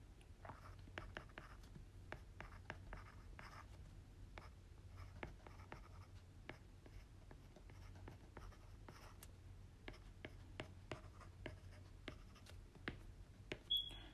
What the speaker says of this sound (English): So I'll draw the structure for this one.